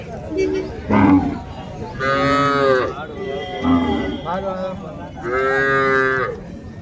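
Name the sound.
native breed cattle mooing at a cattle market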